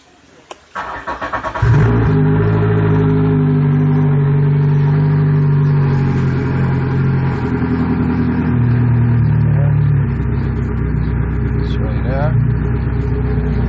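A JB 18 motor cold-starts with a water hose hooked up for flow, catching after a second and settling into a loud, steady low rumble that holds throughout, with a slight change in tone near the end and a voice talking over it.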